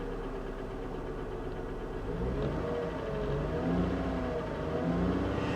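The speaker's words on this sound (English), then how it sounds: "You hear those lifters." A Chevy Camaro SS engine idles steadily with a light rapid lifter ticking over its low hum, the pitch shifting slightly as it runs.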